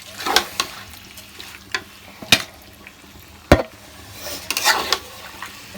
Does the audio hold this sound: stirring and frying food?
yes